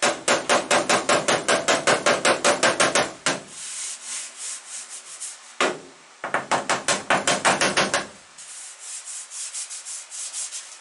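Rapid, rhythmic metallic hammering with a hammer and dolly on a 1965 Mercury Comet body panel, in two long bursts with a brief pause between, followed by softer rubbing strokes.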